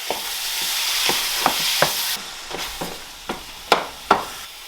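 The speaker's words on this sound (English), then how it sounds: "we're going to move that meat around and cook it." Ground meat for sloppy joes frying in a hot pan, a steady sizzle broken by a series of sharp scraping and tapping strokes as it is stirred and broken up, close and clear.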